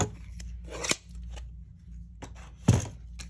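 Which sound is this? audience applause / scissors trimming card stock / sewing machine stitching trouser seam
scissors trimming card stock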